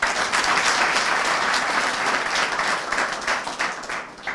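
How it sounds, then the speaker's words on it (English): An audience at a football referees' workshop in Zambia claps steadily in sustained applause, a dense wash of many hands that holds throughout and eases slightly near the end. "I think you need to give us a clap."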